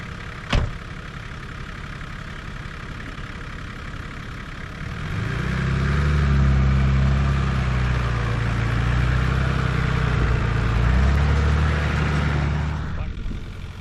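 A 4x4 with lowered tyre pressures drives out of a bog, its engine idling quietly at first, then rising into a louder, steady low rumble as it pulls through, with a brief knock near the start.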